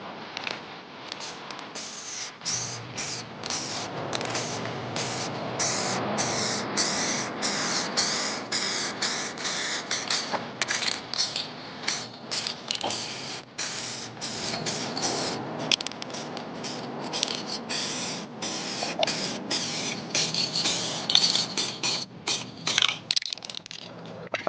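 A spray can hisses in bursts as paint is blended over a damaged car bumper during a touchup. Short sprays alternate with brief pauses, with nozzle clicks and can rattles between them.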